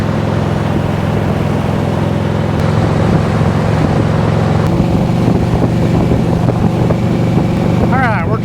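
Harley motorcycle riding along a highway, a loud steady engine drone with heavy wind rush throughout, close to the microphone, with a voice talking over it.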